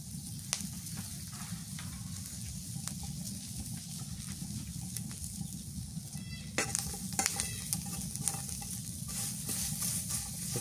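Chopped onion sizzles and fries in a pan for a home-cooked vegetable mash, a steady close hiss with scattered stirring scrapes and clinks, no talking.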